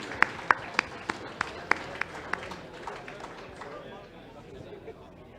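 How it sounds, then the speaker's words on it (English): A handful of sharp, separate claps ring out at a student robot fighting league event, about seven in quick succession. They fade into murmured crowd chatter and talk. "Can we have a round of applause for all of our contestants on that round, please?"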